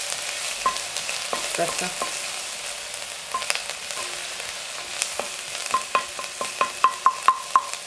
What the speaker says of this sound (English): We're going to chuck in the thyme, garlic and chilies.